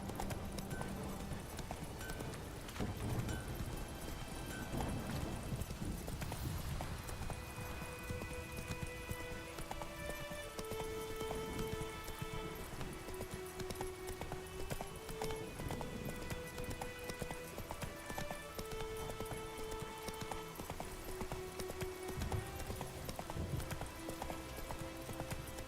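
Roach the horse gallops in The Witcher 3, with rapid rhythmic hoofbeats running continuously, a brief whinny near the start, and a soft tonal game melody playing beneath.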